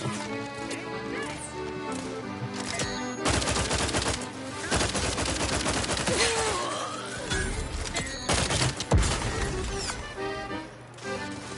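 Gunfire in The Outer Worlds 2, with loud irregular shots and bursts layered over game music and effects for about ten seconds, mixed with occasional crashes.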